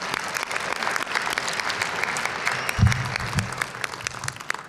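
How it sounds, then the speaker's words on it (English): A crowd at an inauguration ceremony applauds steadily, with dense, even clapping and a brief low thump partway through. "Let's give them a big round of applause."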